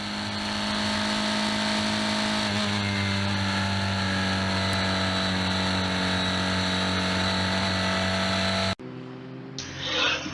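Historic Formula Ford 2000 racing cars at Brands Hatch heading down the straight toward Hawthorns, a sustained loud engine drone with steady pitch that cuts off abruptly near the end to a quieter trackside murmur.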